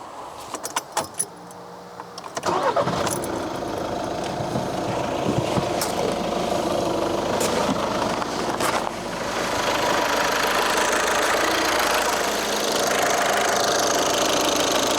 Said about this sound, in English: So now we're going to start the car up and see how it runs.